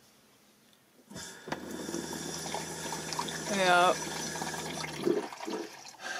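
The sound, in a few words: new RV kitchen faucet running water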